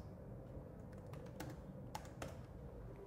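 Quick light keystrokes on a computer keyboard typing a sheet name, a short burst of crisp taps over a quiet background.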